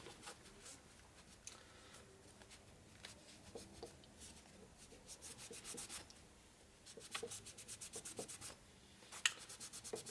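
A rag is rubbed back and forth on a part of a 1941 Harley WLD 45 flathead engine, giving quiet, close scratchy strokes in uneven bursts with short pauses between them.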